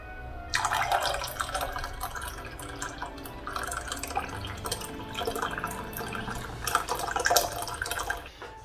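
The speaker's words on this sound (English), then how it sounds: "Our 2 cups of strong brewed coffee." Two cups of strong brewed coffee pour into a Christmas milk-and-brandy punch, a steady close liquid splash and trickle running for several seconds with no talking.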